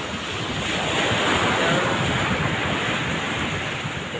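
Rushing surf and large breaking sea waves fill the air in a continuous, loud wash, mixed with gusty wind buffeting the microphone.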